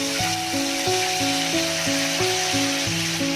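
Curry leaves and green chillies sizzle steadily in hot oil for a dried fish curry, a continuous close frying hiss, with a repeating melodic music line playing over it.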